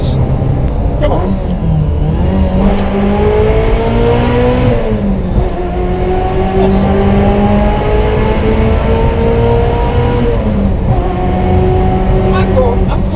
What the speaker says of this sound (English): the manual gearbox, the loud exhaust, the fact that it's a Ferrari